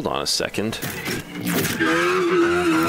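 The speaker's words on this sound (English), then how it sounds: "This is not what an S14 is supposed to sound like." Nissan S14 engine in the racing game NFS Unbound, revving up to a steady loud drone with tire noise, close, under a voice speaking at the start.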